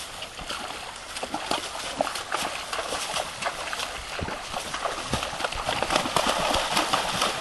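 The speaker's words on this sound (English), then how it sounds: "Riding down through the creek." Horses' hooves clip-clop steadily as riders cross a creek, with splashes and the rush of water close by, a continuous irregular beat of hoof strikes throughout.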